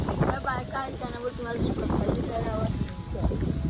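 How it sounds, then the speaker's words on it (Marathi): Strong wind buffets the microphone outdoors in Konkan with a steady low rumble, heard under close conversation throughout. "हवा पण जोरात सुटलाय"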